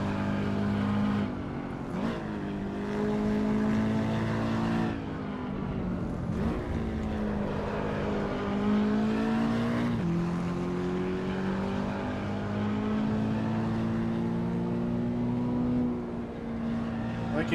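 Race car engine in the Assetto Corsa Evo racing game, labouring up a hill under load, a steady, droning, rising engine note that runs throughout without fully revving out.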